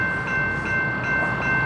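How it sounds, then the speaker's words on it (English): Amtrak Crescent number 20 passenger train passing at Mableton, Georgia, on a November evening, a steady close rumble of rolling cars with a faint high tonal whine held throughout, no voices. "Amtrak Crescent number 20"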